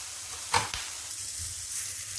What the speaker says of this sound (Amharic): ቀላ እስከሚልልን ድረስ በደንብ መጥበስ አለብን።